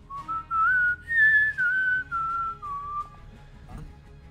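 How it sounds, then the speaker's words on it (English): A person whistles a short tune of several sustained notes in a row, clear and close, with no talking over the melody. "I was whistling up towards the roof."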